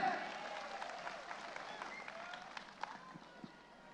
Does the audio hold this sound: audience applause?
yes